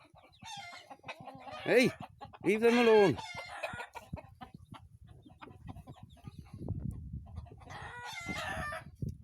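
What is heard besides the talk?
cockerel clucking and crowing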